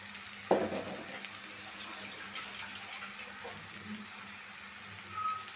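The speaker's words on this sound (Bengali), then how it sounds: "এখন বাগার দিয়ে নেব।" Boiled greens get a tempering (bagar) in hot oil on a low gas flame, a soft continuous sizzle with a sharp tap near the start and faint kitchen clatter, no talking.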